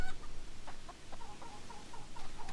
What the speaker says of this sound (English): Chickens! Look at all those chickens.